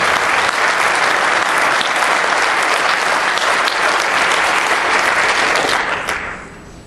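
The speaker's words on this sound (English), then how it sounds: "please give Brian Miller a round of applause" A seminar audience breaks into sustained applause, a dense even roar of many hands clapping near and loud for most of the stretch before tapering off at the end.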